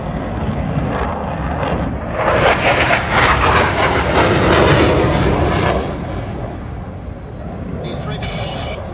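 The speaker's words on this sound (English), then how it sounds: "Here comes our second Hornet." An F/A-18 Hornet fighter jet passes over an air show, its broadband roar swelling loud for a few seconds and then easing back, with a commentator's voice audible throughout.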